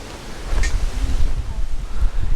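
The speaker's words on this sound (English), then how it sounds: "Oh man, it's getting windy today." Strong gusting wind buffeting an outdoor microphone during a storm, a steady low roar with rising and falling gusts throughout.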